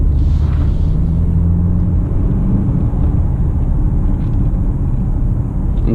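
A 2019 BMW X4 xDrive 20d M Sport's diesel engine pulls hard under acceleration from inside the cabin, a steady low rumble and drone over continuous road noise with no pauses.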